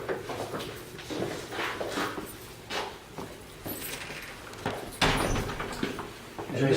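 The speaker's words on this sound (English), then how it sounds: "I got the door." An elevator-area door is opened and closed with soft clunks and rattles, ending in a heavier thud near the end, under a steady background of movement and low indoor noise.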